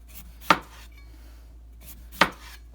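Knife cutting quarter-inch slices from a washed potato on a cutting board, two crisp, separate chops about two seconds apart, close and clear against a quiet background hum.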